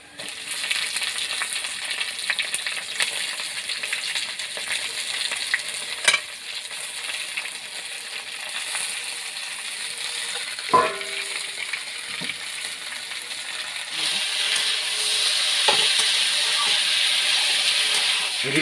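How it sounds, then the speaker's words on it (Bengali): Kundru (ivy gourd) and onion frying in a wok, a continuous close sizzle and hiss that swells louder toward the end, with a few isolated clunks of a utensil against the pan and no speech. "এদিকে কিন্দুরি ভাজা হচ্ছে"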